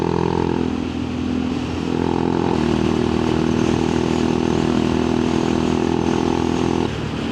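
A Honda Monkey Z125 motorcycle engine runs steadily and close by on the road, a constant buzzing drone with slight shifts in pitch and no voices.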